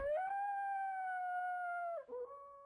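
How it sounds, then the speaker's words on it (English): Dogs in the video game SurvivalCraft let out one long, steady howl that holds for about two seconds, then breaks off into a short lower yelp, loud and close with nothing else around. "There's dogs everywhere."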